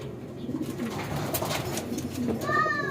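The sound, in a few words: bird cooing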